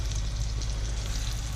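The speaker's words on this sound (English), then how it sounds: "we're going to fry off our meatballs first" Meatballs frying in a pan of olive oil and butter, giving a steady, dense sizzle that holds at an even level throughout without any talk.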